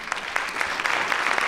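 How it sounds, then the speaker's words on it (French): Brief burst of audience applause at a French round-table morning event, many hands clapping in a dense, even patter for a second or two with no voices. "Merci à nos 5 intervenants de ce matin qu'on peut aussi applaudir."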